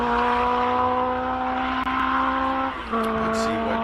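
A classic race car on a hillclimb run at Simola, its engine holding a loud, steady high note before a brief dip around a gear change and then pulling hard again, close and continuous.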